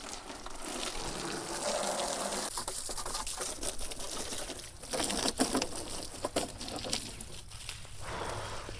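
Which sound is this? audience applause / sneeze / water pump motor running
water pump motor running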